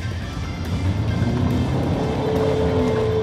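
A Peugeot 2008 spins its wheels in mud in mud mode, a steady, loud, close engine and tyre drone over about three seconds with no talk.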